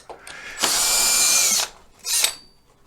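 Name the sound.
electric screw gun driving screws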